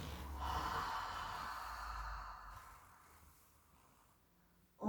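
A long, slow exhale during a Pilates leg-slide exercise on a mat, a close airy breath that starts strong, fades gradually over several seconds, and ends with a sharp new intake.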